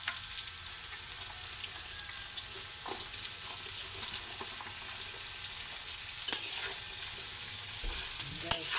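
Carrots and sayote fry in a pan while being stirred, giving a soft steady sizzle with repeated scraping spatula strokes and a few sharper clinks toward the end.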